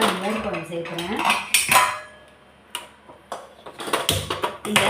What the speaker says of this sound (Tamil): அதுக்கு ஒரு கடாய் எடுத்துக்கிறேன்.